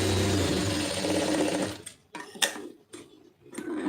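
A sewing machine stitches a lined blouse in a steady, close, loud whir for about two seconds, then stops and gives a few short bursts of stitching with quiet gaps between them.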